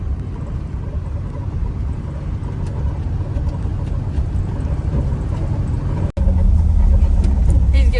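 An old dump truck idles at a gravel pit, its engine giving a steady loud low rumble throughout, with a brief dropout before the drone resumes slightly stronger.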